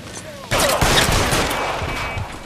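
Gunfire in the video game L.A. Noire, a sudden loud burst of rapid shots after a brief quiet moment, continuing as a dense volley with voices faintly mixed in.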